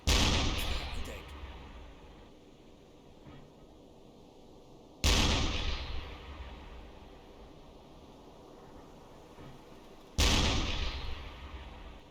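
Deck gun blasts in the U-boat game Uboat, three heavy booming shots spaced about five seconds apart, each with a loud sharp onset that rolls off into a long rumbling tail over steady sea and ambient noise.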